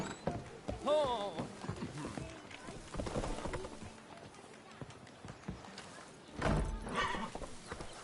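Roach, the horse in The Witcher 3, gallops with rapid hoof clip-clop and gives a sharp whinny early on, with a second burst of hooves and movement later, all under game music and effects.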